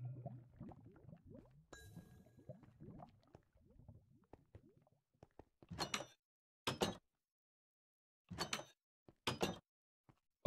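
Doors open and close in modded Minecraft, giving several sharp, separate clunks spaced out over a few seconds after a stretch of softer bubbling, scattered noises.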